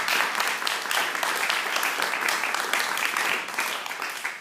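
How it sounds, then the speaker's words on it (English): Steady audience applause at a community event in honor of a young man, a dense wash of many hands clapping close by for about four seconds with no talk. "I just want to give a round of applause to this young brother here"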